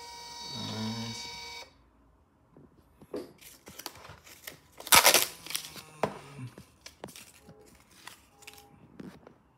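A thermal receipt printer runs in short buzzing, rattling bursts with quiet gaps, close and fairly soft, after a brief electronic tone at the start.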